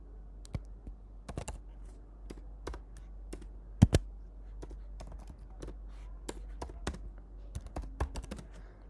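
Keys on a computer keyboard tapped in short irregular bursts, close and fairly quiet over a low steady hum, with a couple of sharper louder strokes partway through during a live forex trading session.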